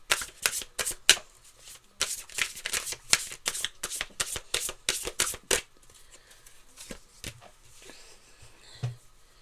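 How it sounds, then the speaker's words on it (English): A deck of tarot cards is shuffled by hand with rapid, crisp riffling bursts up close. The shuffling slows to a few scattered flicks and rustles at the end. "Last shuffle, Taurus."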